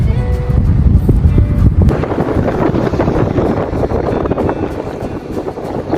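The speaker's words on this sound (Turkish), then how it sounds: "Resmen fırtınaya yakalandık." Strong, steady storm wind buffeting the microphone during a bicycle tour near Finike and Elmalı, Turkey, with a low roaring rumble, continuous and loud throughout, with gusty bursts and no speech.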